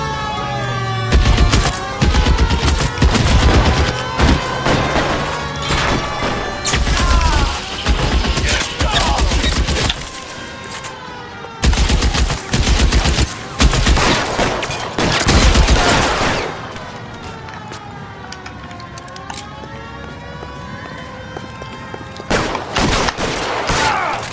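Bursts of gunfire rattle through a shootout in L.A. Noire, loud and dense in repeated volleys across the scene, mixed with shouted voices and other game action between the barrages.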